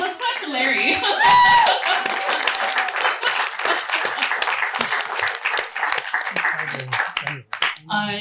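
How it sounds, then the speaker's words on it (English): Sustained applause from an audience at a live evening event in Gallup, dense and steady throughout with voices mixed into the clapping. "I think we should clap for why we're here tonight."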